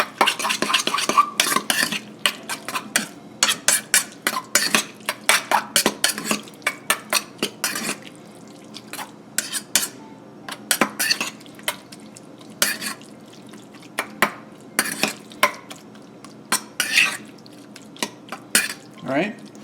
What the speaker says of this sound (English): And then we just give it a good mix.